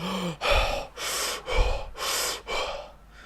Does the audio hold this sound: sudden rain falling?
no